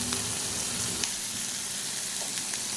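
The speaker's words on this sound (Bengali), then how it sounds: "এবার এটাকে পুরো আবার ভাজা ভাজা করব।" Scrambled egg tossed back in with fried tomato, onion and chili in a pan, giving a dense, even sizzle heard up close, with a couple of light clicks and no speech.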